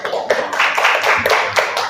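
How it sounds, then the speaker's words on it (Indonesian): Students in a classroom applaud after a group presentation, a close, dense patter of many hands clapping throughout the short stretch. "Tepuk tangan. Ayo."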